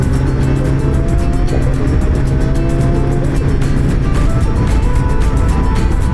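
Road riding on a BMW S1000RR and a KTM 1390 heading for the Col de l'Espigoulier, with a loud, steady engine drone and rushing wind noise that stay constant and close throughout.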